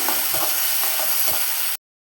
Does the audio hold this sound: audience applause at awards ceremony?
no